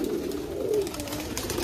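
A flock of Giribaj pigeons kept in a loft, cooing close by in a steady low murmur with one fuller rolling coo near the middle.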